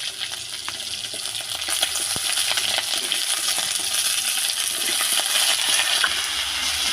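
Prawns fry in hot mustard oil with tempered spices, giving a steady close sizzle with scattered pops and crackles that carries on the whole time without speech.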